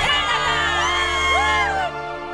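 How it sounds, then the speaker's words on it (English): Crowd cheering and whooping at the Rotax Max Challenge Grand Finals 2011 kart race drivers' parade, a dense, continuous roar of many voices with high whoops, sustained and loud before easing slightly near the end. "the track is lit up with flashbulbs and a buzz with cheers from the crowd"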